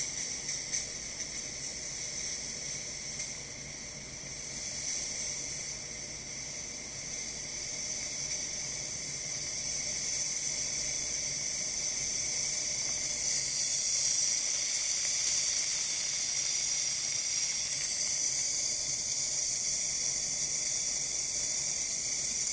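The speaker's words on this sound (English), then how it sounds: "Steaming well, so the machine functioning perfect, everything works great." A DeLonghi Magnifica S super-automatic coffee machine's steam wand gives a steady, loud, close hiss that runs unbroken for over twenty seconds, with no voices.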